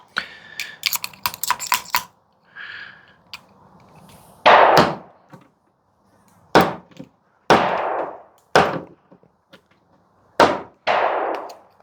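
A stuck caliber adapter being pushed out of a Charles Daly 101 folding single-shot shotgun, giving a series of sharp metallic clacks and knocks, some in quick clusters and others spaced a second or so apart, close and fairly loud with no talking.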